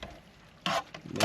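Crab meat, lemon and parsley are stirred in a hot pan, with brief scraping, sizzling bursts that come close and loud after a quiet start.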